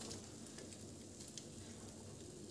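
Bread slices frying in a pan for shahi tukda, a steady soft sizzle that runs unbroken and fairly faint throughout, with no talk.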